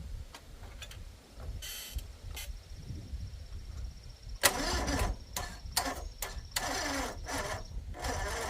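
A truck engine cranks in several short repeated bursts after trickle charging, each attempt a loud rough churn separated by brief pauses, with no voices.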